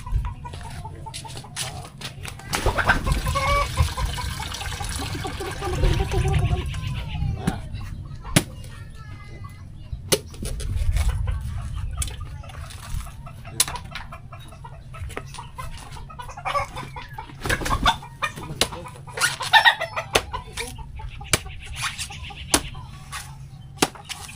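Chickens clucking in bursts nearby, with people talking intermittently over the birds and some handling noise in the background.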